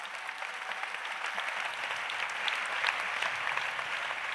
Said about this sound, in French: Acclamez pour Jésus-Christ. Clap for Jesus.